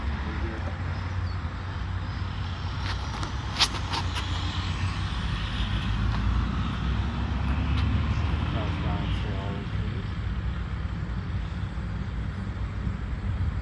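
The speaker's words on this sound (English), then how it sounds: "Sorry if you hear some like trucks, there's that quarry behind" Heavy quarry trucks rumble in the distance with a low, continuous drone, and a few brief high tones and beeps cut through the outdoor background of a disc golf course in Iowa.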